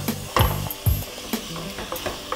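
Beef pieces added to hot oil in a cooking pot, giving a crackling sizzle with a few sharp clattering drops and stirring knocks near the start, close and moderately loud, no talking.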